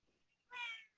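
A cat gives a single short meow, fairly faint and distant, standing out alone against an otherwise quiet room.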